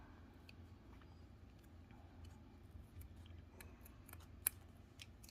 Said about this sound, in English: this is where you would essentially cut off your tail